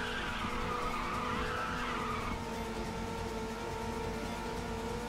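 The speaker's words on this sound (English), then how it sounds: "That was awesome, that drift." A car drifting in Ridge Racer 6 gives a long, steady, loud tire squeal over a droning engine, the pitch sliding and then settling into a sustained whine.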